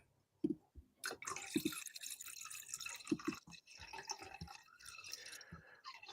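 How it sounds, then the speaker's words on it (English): Wine glugs and drips as it is poured into a big glass, a run of irregular splashy liquid sounds close up, broken by brief louder bursts of studio noise. "It sounds like forever and a day you're pouring that wine."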